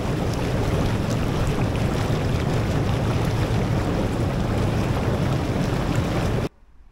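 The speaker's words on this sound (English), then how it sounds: "here are the bubbles of the bubbling pool right, of the bubbling hot tub right here" Bubbling water in a hotel hot tub in Bournemouth, a loud, steady churning rush heard up close that runs unbroken for over six seconds and then cuts off abruptly to near silence.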